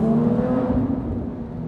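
A Porsche GT3 engine holds a steady high-revving drone, a loud sustained tone that eases slightly toward the end, with no talking over it.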